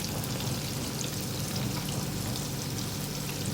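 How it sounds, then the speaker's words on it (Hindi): Fish frying in hot oil for crispy fish and chips, a steady dense sizzle and crackle that holds evenly throughout at moderate loudness, with no voices. "फ़िश फ्राई होना शुरू हो गई है।"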